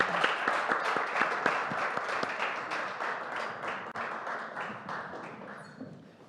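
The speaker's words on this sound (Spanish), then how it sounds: "un aplauso para vosotros." Audience applause at an indoor presentation, a steady patter of many hands clapping that slowly thins and fades out over several seconds, with no talk over it.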